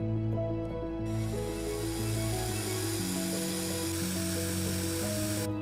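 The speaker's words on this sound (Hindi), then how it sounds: "उसके बाद उन्हें अच्छी तरह से मिलाने के लिए एक ड्रिल का इस्तेमाल किया।" A power drill mixes two-component epoxy resin, measured in a 2:1 ratio, for repairing an old pirate sword; a steady, loud, continuous whirring drone with shifting tonal pitch runs throughout.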